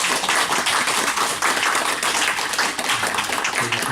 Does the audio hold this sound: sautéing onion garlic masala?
no